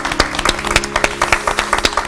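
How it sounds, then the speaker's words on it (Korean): A studio audience on a Korean Christian talk show claps briefly, a short burst of fairly close, distinct hand claps in a quick uneven rhythm, with a faint tonal hum beneath. "박수 한번 하시죠"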